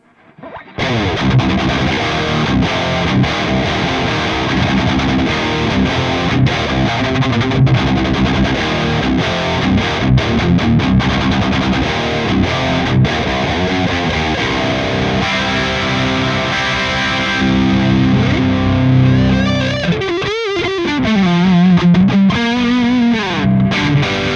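Distorted electric guitar plays through a 1Mii M2 wireless system into an amp, chords and riffs ringing continuously with a thick, gritty tone, ending in a wavering bent note.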